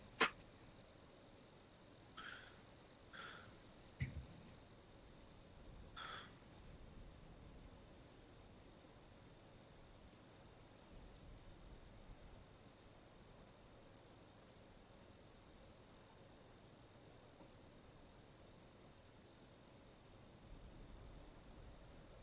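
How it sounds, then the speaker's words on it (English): Crickets chirp in a steady, continuous high-pitched trill across quiet prairie dunes surroundings, with a few faint brief clicks early on and no talking. "So quiet you can hear crickets."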